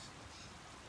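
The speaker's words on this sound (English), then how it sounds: "The little rain just landed on the window on my blind." Light rain spatters steadily on the window of a hunting blind during a late-season muzzleloader hunt, a soft, even hiss of drops close by with no voices.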